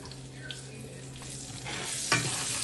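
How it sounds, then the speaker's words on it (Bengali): Slit green chillies being stir-fried in a pan while cooking a Bengali mustard hilsa dish, giving a steady low sizzle with soft stirring scrapes and a brief louder clatter near the end, no talking. "চিরা কাঁচা লঙ্কাগুলোকে দিয়ে একটু ভালো করে নেড়ে চেড়ে নেড়ে চেড়ে নেব"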